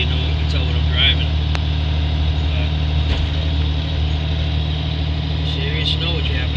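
A triple-axle Volvo D13 snow plow truck idling during a heavy snow storm, a steady low engine drone with a constant hum, close and loud, with faint brief knocks and rattles over it.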